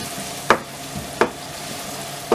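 Garlic and ginger fry in oil for prawn fried rice, a steady sizzle broken by three sharp stirring scrapes spaced about a second apart, close and clear with no talking.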